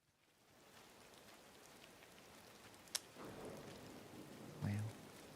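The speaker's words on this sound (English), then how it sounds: "Oh, the rain is beautiful." Soft, steady rain patters throughout a Disney video game scene, with one sharp click near the middle and a brief low thump toward the end.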